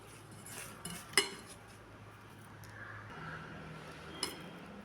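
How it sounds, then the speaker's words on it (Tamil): A spoon clinks and scrapes against a bowl while spices are stirred together, with a couple of sharp taps standing out against quiet background. "இப்போ எல்லாத்தையும் நம்ம கலக்கி வச்சுக்கலாம்."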